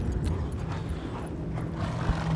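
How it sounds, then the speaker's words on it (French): Horses' hooves clip-clop steadily in the fantasy video game The Witcher, a continuous muffled trotting rhythm mixed with low game ambience and a faint whinny, with no talking over it. "Des chevaux, ok."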